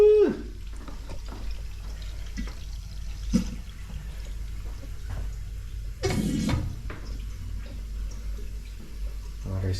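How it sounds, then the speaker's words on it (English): Water runs and fills a fixture in a commercial-building bathroom, heard as a low, steady flow with scattered drips and clinks, then a louder rushing burst partway through. "Water is coming now."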